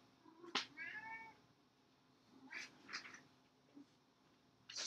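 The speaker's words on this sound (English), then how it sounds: "Stupid cat" A cat meows several times indoors, short nasal cries spaced apart over quiet background, close but not loud.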